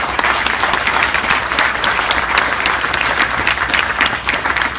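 Crowd applause at an outdoor groundbreaking ceremony, loud continuous clapping from many people that keeps a steady level throughout.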